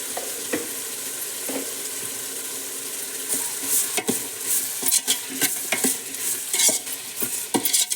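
Spices with turmeric and garam masala fry in a pan with a constant sizzle, while a metal spoon stirs and scrapes with irregular, close clinks against the pot.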